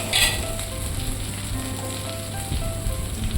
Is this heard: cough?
no